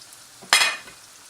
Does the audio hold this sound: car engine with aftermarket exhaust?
no